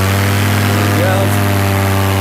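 A powered paraglider's paramotor engine runs at full throttle with a steady, loud, droning hum. It stays constant throughout.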